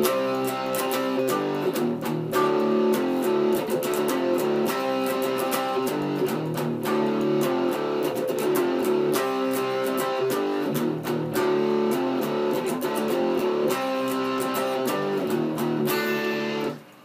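A song's chorus played on a distorted electric guitar, a thick, steady wall of driven chords with rhythmic accents running loud and continuous before cutting off at the very end.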